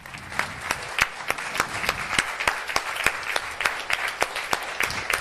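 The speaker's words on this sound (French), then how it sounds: "Je crois qu'on peut tous les applaudir encore" Audience applause for young readers at a regional children's reading championship final, a continuous wash of clapping with a few sharp, close individual claps standing out in an irregular rhythm.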